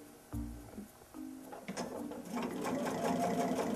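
A sewing machine stitches quilt binding with a brief start, a pause, then a steady fast mechanical whir of needle strokes that builds and continues, close and fairly quiet.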